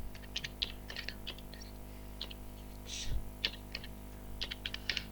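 Keys on a computer keyboard are tapped in quick, uneven bursts while a number is entered into software, crisp clicks close by over a low steady hum, with no voices.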